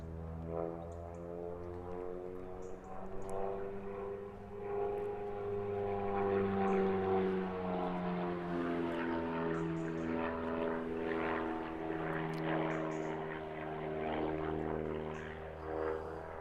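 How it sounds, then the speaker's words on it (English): A propeller aerobatic aircraft flies G-turns at a British aerobatics championship, its engine droning steadily from a distance with a note that swells and fades as it passes, with a few brief faint clicks over it. "So if you can hear Paul doing his G-turns, very different engine note from that 4-cylinder, 4-pot we call them."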